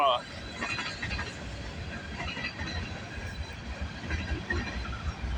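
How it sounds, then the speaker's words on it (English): A CN freight train rolls past at Bronte Street in Milton, Ontario, a steady, loud rumble of wheels and cars with faint clatter running through the whole stretch. "Finally, my first CN train for the day."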